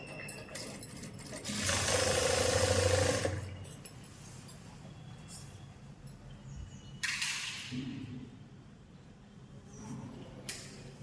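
A sewing machine stitches chudidar fabric in two separate runs, a steady mechanical whir for about two seconds, then a shorter burst later, with quiet handling noise between.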